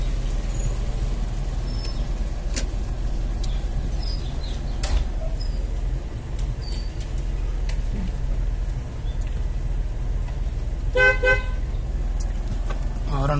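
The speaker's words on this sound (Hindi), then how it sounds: "हॉर्न तो बजाया" A car horn gives a short honk outside closed houses in Malaysia on a quiet Eid ul-Fitr morning during lockdown, standing out briefly over steady street background noise.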